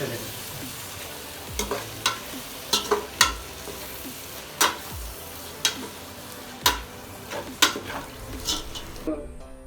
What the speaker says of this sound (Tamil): போட்டுட்டு நல்லா மிக்ஸ் பண்ணி விட்டுருங்க.